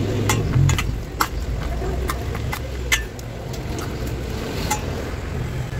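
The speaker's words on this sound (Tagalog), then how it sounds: "At atin ang halu-haluin." Ground pork marinated in soy sauce and seasoned with pepper and garlic salt is stirred in a pan, a steady scraping, shuffling sound with faint sizzling and occasional sharp clicks of the utensil.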